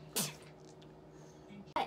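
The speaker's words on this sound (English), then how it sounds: "oh my gosh, I'm gonna sneeze." A single sharp sneeze bursts out near the start, close and loud, followed by quiet room tone and a brief second burst of breath or movement at the end, in a person's bedtime bathroom routine while brushing teeth.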